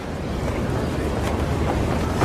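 Strong wind about 800 feet up on a New York City skyscraper construction site roars and buffets the microphone in a continuous loud rush, with no pauses.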